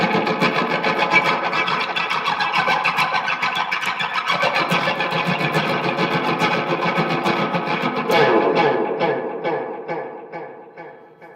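An electric guitar plays through a delay pedal, its notes smeared with echoes. At the end the repeats ring out and fade away on their own.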